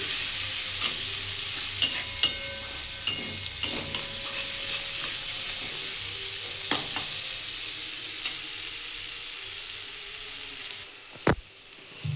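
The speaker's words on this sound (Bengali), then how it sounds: "দিয়ে ভালো করে কষিয়ে নিচ্ছি" Chicken curry fries in a pan while being stirred, a steady soft sizzle broken by frequent sharp scrapes and clinks of the spoon against the pan, with no speech.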